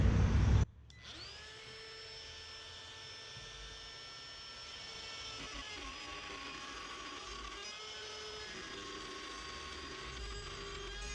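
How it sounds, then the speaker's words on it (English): A router cutting wood out of a hinge-side door jamb runs as a steady, loud, high whine with a continuous droning tone, starting just after a short burst of noise. "you want to just move to the right with your router"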